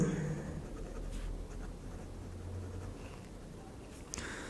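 Handwriting strokes on a surface during a chemistry lesson on biomolecules, a soft continuous scratching that runs steadily for several seconds at close range with no talk over it.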